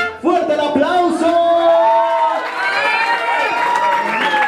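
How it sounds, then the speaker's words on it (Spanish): Guests at a wedding where a mariachi band is playing a serenade cheer and whoop loudly, with shrill rising shouts and crowd noise over a little clapping. "¡Fuerte el aplauso!"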